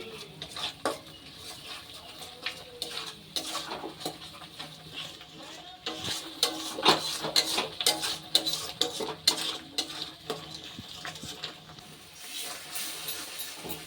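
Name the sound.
ground and paste spices being stirred and fried in a pan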